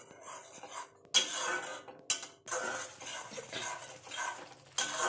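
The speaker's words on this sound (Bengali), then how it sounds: "তো একটুখানি এটা আমি নেড়ে নেব মশলাটা ভালো করে" A spoon scrapes and clinks against a pan while stirring a dry spice mix of poppy seeds and white sesame over low heat, with sharp metallic knocks separated by quiet pauses, close up and no talking.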